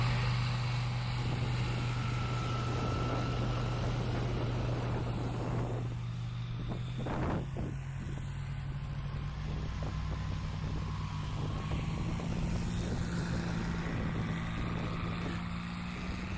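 Small propeller airplanes taxi past at a STOL competition practice, with steady engine hum and shifting pitch, a continuous mechanical rumble moving by at close range.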